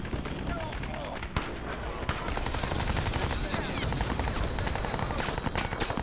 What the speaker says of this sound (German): ich bin unter Beschuss, aber ich habe keine Ahnung von wo